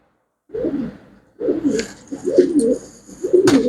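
Domestic pigeons kept for sale coo in several low, throaty bursts at close range, with short pauses between the calls and no talk.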